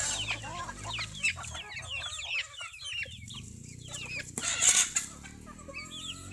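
Gamefowl roosters penned in cages cluck and chirp repeatedly in quick, overlapping bursts, with a louder squawk near the end, heard close by over faint background noise.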